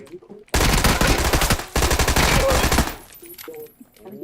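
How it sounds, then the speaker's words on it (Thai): Loud, rapid automatic gunfire in PUBG, two long sustained bursts, close and intense, followed by quieter scattered shots and faint voices. "แต่ว่ามันมีคนยิง จากที่อื่นด้วยดิ"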